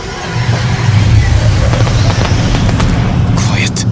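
Booming fireworks-style explosions in the Ghost of Tsushima video game, a dense, continuous low rumble with scattered sharp cracks, loud and sustained throughout with faint voices underneath.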